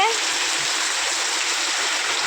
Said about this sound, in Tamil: இப்போது ரொம்ப நல்லாவே பெய்யுதுங்க ஃப்ரெண்ட்ஸ்